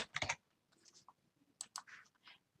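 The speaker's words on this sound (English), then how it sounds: "and then we're going to type Tracy" Typing on a computer keyboard while entering text in a C# Windows Forms app: a quick cluster of sharp keystrokes, then sparse, scattered clicks, close and fairly quiet.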